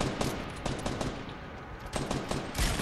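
Rapid automatic gunfire in the Fortnite video game comes in repeated close bursts of sharp cracks, separated by short pauses.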